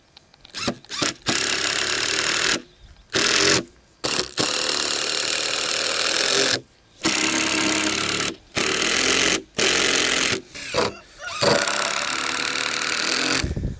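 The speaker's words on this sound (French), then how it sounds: "je vais venir visser chaque partie aux extrémités" A power screwdriver drives screws into a wooden raised garden planter frame, loud whirring bursts of a second or two, several of them, separated by short silent pauses, close up with no speech.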